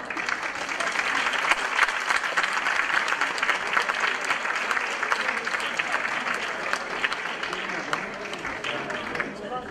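Audience applause fills a Turkish classical music concert hall at Bahçeşehir University: dense, steady clapping from a large crowd, continuous and loud throughout.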